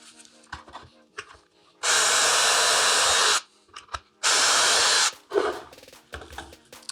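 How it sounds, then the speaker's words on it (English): A 3/16 inch bit drilling two holes through wood with a Kreg drawer pull jig: two loud sustained bursts of drilling, each about a second and a half, separated by quieter handling and bumping noises. "take a 3/16 inch drill bit and drill through these 2 holes"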